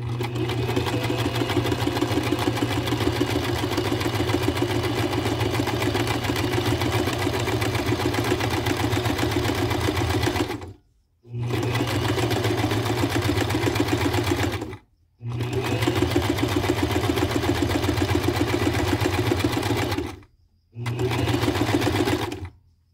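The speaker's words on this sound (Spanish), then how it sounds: "Y voy a terminar pasar el zigzag en toda nuestra tela" A sewing machine runs a zigzag stitch along the edges of fabric for a ceremonial Oaxacan huipil, a loud, close, steady mechanical whir in long bursts broken by three brief stops.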